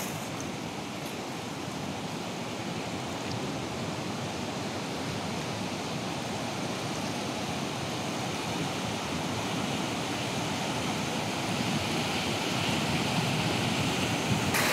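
Large ocean waves pound a coast in Samar, a sustained, dense roar of crashing surf that builds slightly in force toward the end, with no one speaking.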